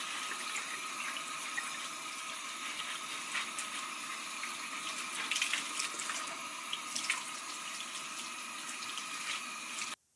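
Steady water running from a tap during hair washing, a continuous hiss and splash of moderate level that holds unbroken for about ten seconds before cutting off abruptly at the end.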